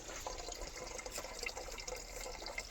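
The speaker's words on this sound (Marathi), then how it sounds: "पाणी घेते आणि प्यायला" Water poured to drink on a farm during the wheat harvest, a soft, steady trickle with faint splashing, quiet and close, with no speech.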